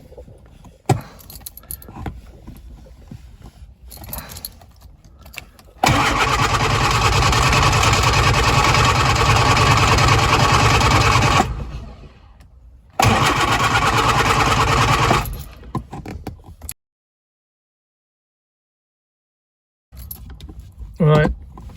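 A Lotus Twin Cam engine with the choke pulled out cranks and catches, running loudly for several seconds. It then stops, fires again briefly, and falls silent. Quieter handling noises and voices come before and after.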